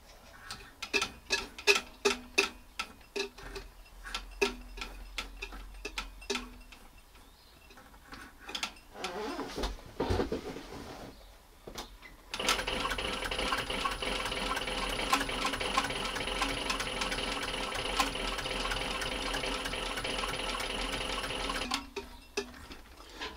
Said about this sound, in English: I'm just turning the machine by hand where it's a very short run